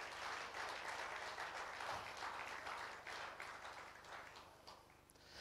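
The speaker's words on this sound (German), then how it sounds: "Komm, lass uns Jesus mal einen Applaus geben." Applause from a church congregation fills the room steadily, a wash of many hands clapping at a moderate, somewhat distant level, fading a little toward the end with no talk over it.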